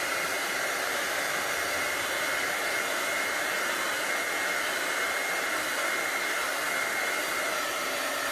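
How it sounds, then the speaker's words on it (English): A heat tool blows hot air to dry chalk paste with a loud, steady, close roar that holds at an even level the whole time. No one speaks. "Where's my heat tool?"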